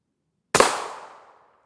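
A single sharp rifle shot from a long 22-inch barrel fired at body armor cracks loudly out of silence and trails off in a short fading echo.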